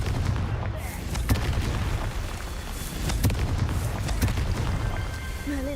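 Confringo blasting spell explosions in the video game Hogwarts Legacy, a series of booming bursts and crackling blasts over dense game noise, several sharp hits spaced a second or so apart.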